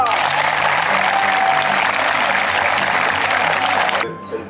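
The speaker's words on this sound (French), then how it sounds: "Donc il faut l'acclamer très fort!" An audience applauds vigorously during a touring science workshop show, with sustained loud clapping and some crowd noise, steady for several seconds before cutting off abruptly.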